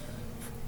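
Pen or marker drawing a straight line on a paper sewing pattern for a bustier blouse, a short, close, steady scratching stroke.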